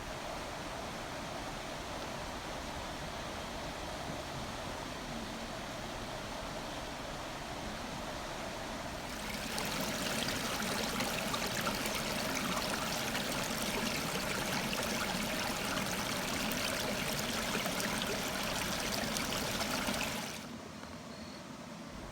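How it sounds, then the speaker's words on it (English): Steady rushing of a flowing stream, continuous and close, growing noticeably louder and brighter midway before easing back near the end. "I think listening to the water is very restorative."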